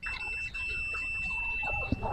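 A starter relay buzzer on a Honda Vario 150 motorcycle with a starting fault sounds as a steady, thin electronic tone under background noise, with a short click near the end.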